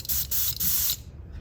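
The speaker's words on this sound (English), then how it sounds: "lay down the base coat of primer" Mr. Finishing Surfacer Pink primer hisses from a spray can onto a Tamiya 1/24 Nissan Z model car body in three short, close bursts, each about a quarter second long, with a brief quiet pause after the last.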